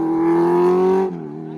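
A Kawasaki Z900 motorcycle revs hard with a steady, buzzing engine note held high during a wheelie, then drops abruptly to a lower, softer tone.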